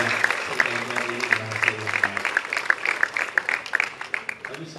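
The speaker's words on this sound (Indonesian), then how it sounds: "Kita beri tepuk tangan kepada mereka yang bekerja." An audience applauds at a governor's ceremony opening a district youth sports hall, with dense, steady clapping that swells and thins over several seconds while voices murmur underneath.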